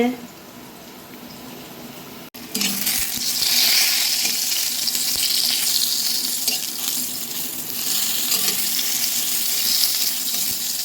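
Hot oil tempering poured into cooked dal, bursting into a loud close sizzle after a brief quiet start, then a steady bubbling hiss throughout while a voice talks faintly underneath.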